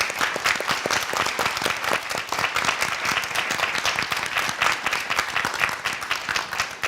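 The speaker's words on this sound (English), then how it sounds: "Let's give our judges a big round of applause" A studio audience on a Korean competition show bursts into sustained, dense applause welcoming the guest judges from Lotte Department Store, steady and loud throughout with no voices over it.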